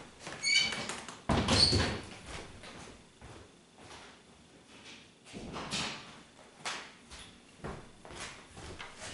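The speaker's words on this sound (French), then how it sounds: "Attendez, je vais refermer les portes." Indoor doors being shut: a creaky squeal and a thud, followed by softer scrapes, rattles and knocks spread over several seconds, fairly close, with no talking.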